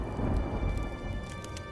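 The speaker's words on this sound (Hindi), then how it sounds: "आसमान में काले बादल छा जाते हैं और जोर जोर से बिजली कड़कने लगती है" Rain and thunder effect for a dark, stormy sky scene: a steady wash of rain with a low rumbling roll of thunder underneath, moderately loud and continuous, no voices.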